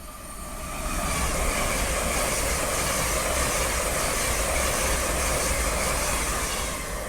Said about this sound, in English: Behind me is a LNER IET, again, running from Newcastle to London.